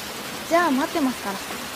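Rain falls steadily in a film scene, a constant hiss of downpour while a voice briefly speaks over it.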